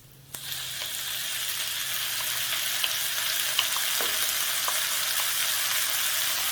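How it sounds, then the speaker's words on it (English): Chopped onion hits a pan of bacon that has already been browned, then fries in a steady, close sizzle that swells after the first moment and continues throughout with a few faint clicks, and no voice. "So now I'm going to add my onion."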